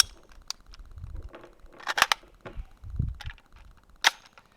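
Sharp metallic clicks and clacks come from a round being hand-loaded into an AR-15 rifle with its bolt locked to the rear and a magazine inserted, setting up a double feed. The scattered close handling noises have quiet pauses between them and no talking.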